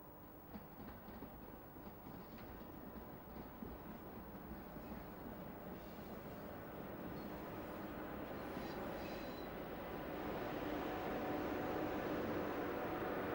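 A prototype train hauled by an old electric locomotive on the West Coast Main Line between Crewe and Winsford gives off a steady, distant rail rumble that grows slightly louder toward the end, with no voices.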